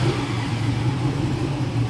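Car engine running with race car ignition parts, a steady low droning idle that holds fairly loud and even, without clear revving peaks, no voices.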